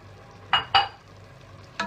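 Beef pepper masala is stirred in separated oil, with three short, distinct scraping strokes against the pan over a soft background sizzle.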